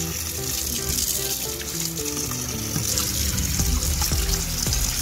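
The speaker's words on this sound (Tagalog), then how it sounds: "Hugasan natin." Running tap water splashes continuously over chopped cabbage being washed for a cabbage omelette, a steady loud rush with no talk.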